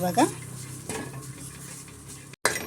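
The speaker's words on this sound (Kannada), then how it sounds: "ಪುದೀನ ಸೊಪ್ಪು ಹಾಕ್ಕೊಂಡು ನಾನು ಫ್ರೈ ಮಾಡ್ಕೊಳ್ತಾ ಇದ್ದೀನಿ." Mint leaves frying in a pan on a home stove, with metal clinks of a utensil against the pan at the start and soft stirring and faint sizzle underneath, plus a sharp scrape near the end.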